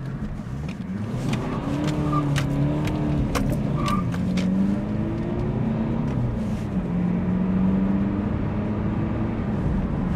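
A BMW 320Cd E46 diesel coupe without a limited-slip differential spins one rear tyre under power, a steady close engine drone with wavering pitch and tyre noise running unbroken for about ten seconds.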